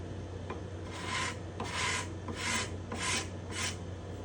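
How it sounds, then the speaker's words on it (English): Close, steady rasping strokes of a hand scraper on a spruce guitar top's bindings and purflings, five evenly spaced scrapes with soft taps between them over a constant low hum. "You don't want to just haphazardly be scraping."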